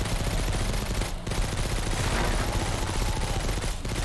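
An automatic vehicle-mounted turret firing in the video game Road Z, with a dense, continuous rattle of rapid shots that runs loud and unbroken through the whole clip, briefly dipping twice.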